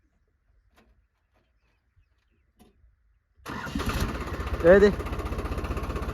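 A New Holland 3630 Super Plus tractor engine is cranked with the self starter, catches and settles into a steady, loud diesel idle close by after a quiet opening, with brief talk over it.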